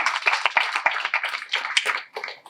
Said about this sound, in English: Yes, a round of applause for all of you for being here.